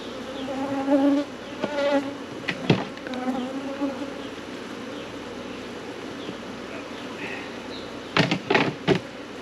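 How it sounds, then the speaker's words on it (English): A dense, steady buzz of many honeybees around a hive during an inspection in heat, with a few sharp knocks and clatters and brief faint voices now and then. "the bees are a little ornery because of the heat"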